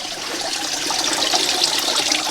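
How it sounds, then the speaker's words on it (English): Water flows steadily into a drainage pipe that carries runoff from the woods through tiles, a continuous bright rushing hiss at moderate level, with no voices. "A lot of water flowing into that pipe, down through the two tiles, and now continuing down into the woods."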